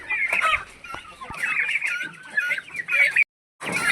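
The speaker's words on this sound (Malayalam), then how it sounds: "ഇത് വരുന്നത് വൈറ്റ് ടർക്കിയാണ്" Four-and-a-half-month-old white turkeys call with repeated nasal clucks and chattering close by. The calls run almost continuously, cut out briefly near the end, then resume.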